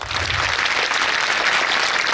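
Loud, steady applause from a school audience at an annual social gathering, a dense crowd of clapping hands sustained evenly throughout with no voices.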